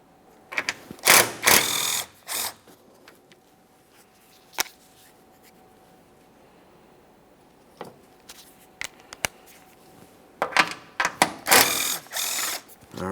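Bursts of rapid ratchet clicking as a 12mm socket loosens front strut mounting hardware on a 2015-2019 Subaru Outback, close and sharp, with quiet gaps and single clicks between the runs.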